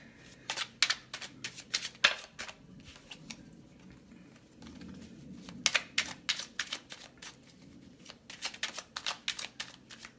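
Tarot cards shuffled and drawn from a deck: repeated crisp riffling bursts and soft flicks, close and moderately loud, in clusters with short pauses and no talking.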